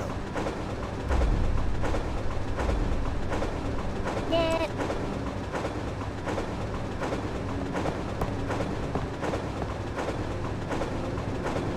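A train runs in the video game Resident Evil 3, giving a steady rolling rumble with rhythmic clicking of wheels on rails, heard at a moderate level with a brief whistle-like tone partway through.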